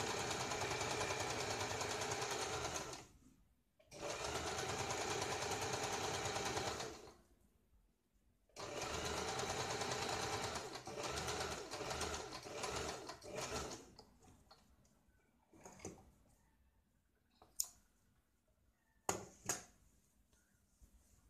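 Sewing machine stitching a blouse lining, running in several long close bursts with short pauses, followed by quieter scattered clicks and taps of fabric handling.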